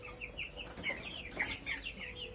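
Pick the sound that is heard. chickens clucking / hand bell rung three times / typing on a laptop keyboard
chickens clucking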